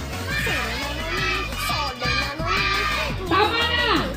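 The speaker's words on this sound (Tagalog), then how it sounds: "Sigaw nyo na!" Loud chorus of children shouting together at a seventh birthday party, a continuous, overlapping wall of young voices that surges and dips across several seconds, with adult voices mixed in.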